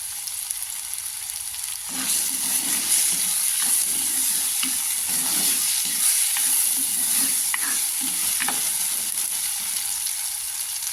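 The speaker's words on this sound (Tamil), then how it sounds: "இப்போ நம்ம வந்து பீன்ஸ் வந்து சேர்க்குறோம்." Beans are tipped into a hot pan for a coconut milk pasta. A loud, steady sizzle bursts in after a quiet start, with repeated scraping strokes of stirring running through it.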